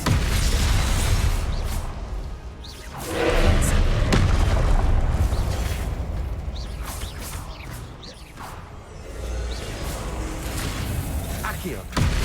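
A Glacius ice spell fires during a Hogwarts Legacy boss fight, a loud booming whoosh and burst over dense game combat noise and music, with swells of impact sound and someone talking over the action.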